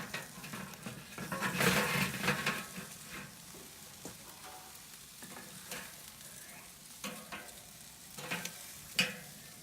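Thin steaks seasoned with pepper searing on a grill: a faint, steady sizzle and hiss with a few soft scrapes and clicks, rather quiet and close.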